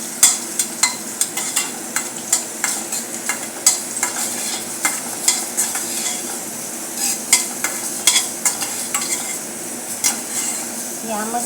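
Whole coriander and cumin seeds fry in a pan, a soft sizzle under repeated sharp scrapes and clinks of a spoon stirring against the metal, close and steady.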